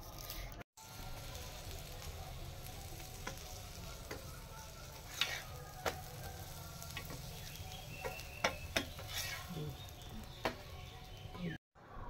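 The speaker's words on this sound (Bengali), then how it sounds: "বন্ধুরা দেখুন, এর পরের গুলো আমি ভেজে নিচ্ছি" Soybean parathas fry in a pan with a soft, continuous sizzle, dotted with small crackles and a few sharper pops, fairly quiet and steady before a brief drop at the end.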